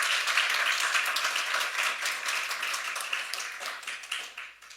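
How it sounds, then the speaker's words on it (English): An audience at an electoral commission panel on youth and gender voter participation claps steadily, a bright continuous patter of many hands that slowly thins and tails off. "Can we give her a round of applause?"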